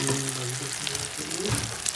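An egg fries in oil with spices, a continuous moderate sizzle close by with soft scraping stir sounds mixed in and no voices.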